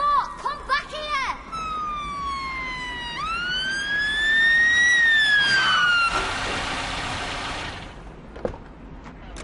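A wailing ambulance siren sweeps up and down loudly, close by, with a burst of broadband noise near the end and some voices before it.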